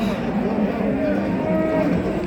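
A cow moos loud and close at the Çorum cattle market, one long, low, drawn-out call.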